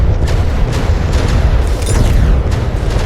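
Warship guns fire in a naval battle video game between a longboat and a dreadnought. Heavy, continuous booming rumbles loud and close, with no speech.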